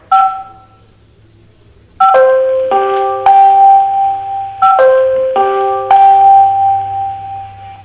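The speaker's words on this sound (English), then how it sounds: "If you want just to ding dong, then you can press the ding dong and it will do that." A home security system's doorbell plays a short two-note ding-dong, then a longer sequence of chimed tones that rings out clearly and repeats, with a low steady hum underneath.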